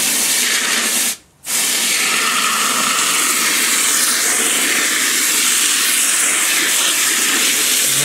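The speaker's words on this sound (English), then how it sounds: "You'll be able to hear that well pump click on." Steady loud rushing hiss of water from a well pump filling a whiskey still pot, continuous and close, broken by one brief dropout early on.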